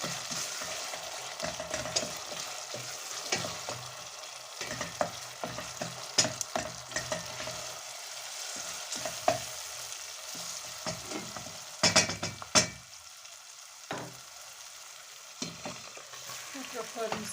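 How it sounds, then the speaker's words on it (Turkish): Tomato paste fries in a pan with a soft, steady sizzle while a spoon stirs and scrapes it in irregular clinks and taps, close and fairly quiet, with no talking. "Böylece salçamızı da kavuralım."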